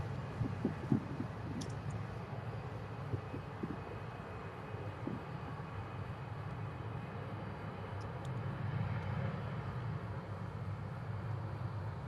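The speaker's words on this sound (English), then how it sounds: "Lufthansa A320 departing runway 2" Lufthansa Airbus A320 jet departing runway 2 at Manchester Airport, a steady broad engine roar at moderate distance that swells slightly toward the end, with no talk over it.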